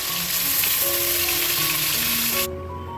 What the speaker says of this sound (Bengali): এই দেখো এইভাবে একটু ভেজে নিতে হবে মানে হাই একেই ভাজতে হবে